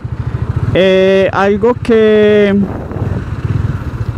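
A Bajaj Dominar 400 UG motorcycle rides along with a low, steady engine rumble throughout, a loud sustained tonal burst rising over it midway, and someone talking.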